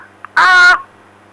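A single nasal honking cry from a voice imitating a goose, loud and close, held for about half a second after a tiny click, during a comedy phone-prank routine about animals.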